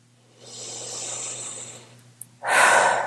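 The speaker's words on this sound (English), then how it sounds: "Big breath." A slow, deep inhale draws in softly and builds to a sustained breath, followed after a brief pause by a louder, breathy exhale. The breathing is close and clear, with no talking.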